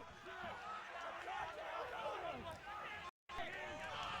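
At a school rugby match, a large outdoor crowd roars and chatters continuously, a loud distant wash of cheering with a brief dropout.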